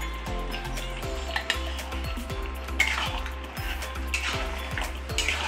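A spoon stirs onion paste into mutton kosha in a metal pot, giving repeated metallic clinks and scrapes in an uneven rhythm over a soft sizzle.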